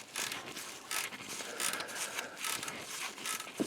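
Ratchet wrench tightening a bolt on a Ford F150 transmission cooler line, giving steady rapid clicking in short bursts, close up and fairly quiet, with no talking.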